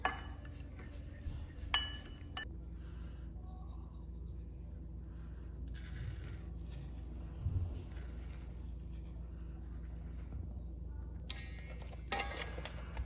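Seasoned beef short ribs tossed in a bowl, giving soft, faint wet handling noises with a few sharp clinks against the bowl, heard alone in a quiet kitchen.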